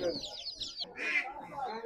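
Chickens clucking at a busy Savar poultry market stall, several birds calling in short overlapping bursts close by amid market bustle.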